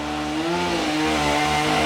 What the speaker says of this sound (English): Neighbor decided to start the chainsaw, of course.